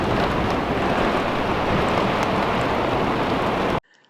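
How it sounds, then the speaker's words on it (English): Heavy rain pours down on a tiny house in a dense, steady roar close by, then cuts off abruptly near the end. "It is pouring."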